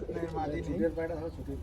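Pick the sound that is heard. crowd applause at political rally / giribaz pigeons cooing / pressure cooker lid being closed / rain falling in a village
giribaz pigeons cooing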